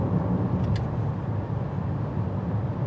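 Inside a 2021 VW Atlas cruising down the road, a low, even rumble of road and engine noise fills the cabin at a quiet, steady level, with no one speaking.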